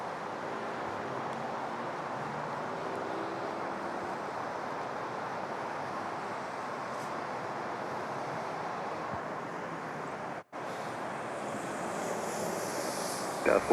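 Steady broadband roar of a Delta passenger jet at New York's LaGuardia airport, continuous and fairly loud throughout, with wind buffeting the microphone and a brief dropout near the end.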